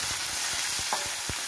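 Onions and chillies fry in hot oil as a tempering for okra fry, giving a steady, close sizzle with soft stirring scrapes through the short stretch.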